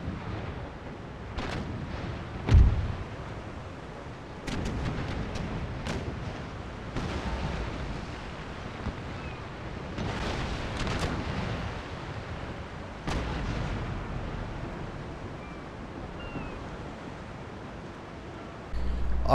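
Naval battle in Empire: Total War, with a rocket ship landing hits and cannons firing between carronade frigates and a heavy first-rate. Scattered booms and sharp blasts recur for about twenty seconds over a low rumbling background.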